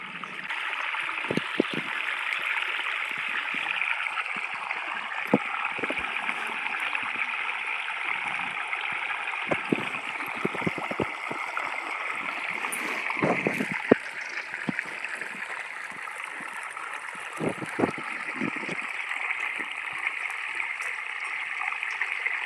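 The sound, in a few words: irrigation water flowing into sorghum field beds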